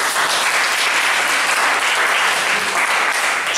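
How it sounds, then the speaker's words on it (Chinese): Sustained, loud applause from a seated audience at a panel discussion, dense clapping holding steady without pause from start to finish. "我们来给他掌声好不好"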